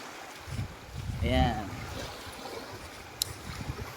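Sea at a beach in Ginyangan, Quezon, with a soft continuous wash of water close by, a voice speaking briefly over it in the middle.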